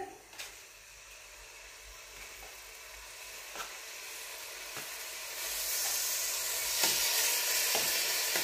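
Pork searing in hot oil in a pan, a steady broad sizzle with occasional light clinks, swelling louder and hissier partway through as more meat hits the oil.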